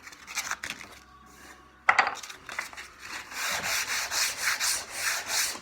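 Hand sanding of a wooden stool with sandpaper: scratchy rubbing strokes, sparse at first, then after a knock turning into steady rhythmic back-and-forth rasps that grow louder, with no talking.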